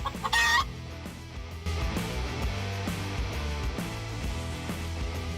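Chickens clucking in a flock, repeated short clucks at a moderate distance with a loud squawk or crow near the start, no voices.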